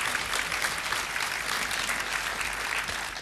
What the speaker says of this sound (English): let's actually give Andrew a round of applause before.